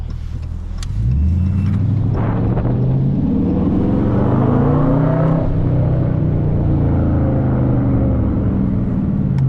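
A Dodge Charger R/T engine rumbles and revs up while driving in the city, rising in pitch through the gears and holding a loud, steady growl close by.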